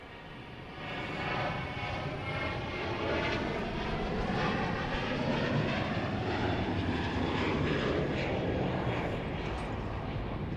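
Jet aircraft at Dallas Love Field Airport at night, a broad sustained engine roar heard from a distance, holding steady throughout with no voices.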